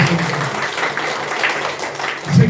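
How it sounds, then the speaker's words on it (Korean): A church congregation claps together during a Sunday worship service, a steady, dense patter of many hands filling the hall for a couple of seconds before swelling slightly at the end. "우리 격려박수 합시다"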